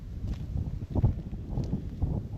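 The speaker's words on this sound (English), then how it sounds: "It's windy today, so hopefully that wind isn't too loud for everybody." Wind gusts buffet the microphone in low, rumbling bursts, with a few scattered knocks and thumps underneath.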